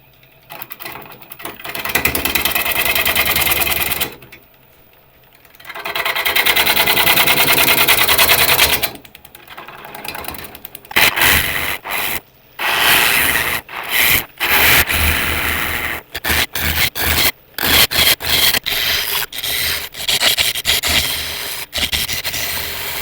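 A tool works inside a hollowed holm oak bowl on a wood lathe, clearing out rot with harsh scraping and rubbing bursts that start and stop, broken by short pauses.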